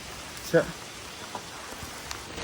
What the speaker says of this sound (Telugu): మళ్ళా వర్షం స్టార్ట్.